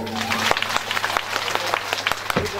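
An audience at a Srimad Bhagwat Mahapuran religious gathering applauds a donation, giving steady, fairly loud crowd clapping with dense overlapping claps and a faint voice underneath.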